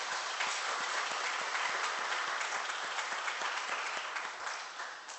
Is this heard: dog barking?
no